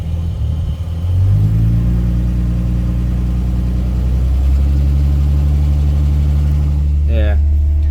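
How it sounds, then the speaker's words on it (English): Holden Calais engine idling with a lifter tick, settling into a steady close rumble after the revs rise briefly, with a faint rapid ticking on top and a short whine near the end. "You need to fix that lifter tick."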